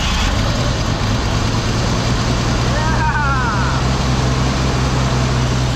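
A Jeep Comanche engine, freshly cleaned after twelve years of sitting, runs steadily at a low idle, its constant drone loud and close throughout.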